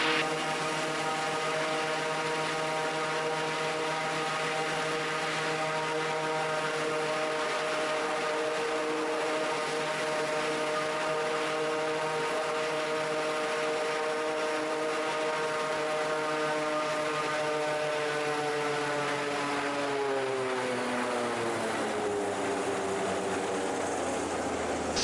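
An engine on the Raptor prototype aircraft drones steadily with a rich, even harmonic tone for over twenty seconds, then the revs drop and the pitch slides down toward idle near the end.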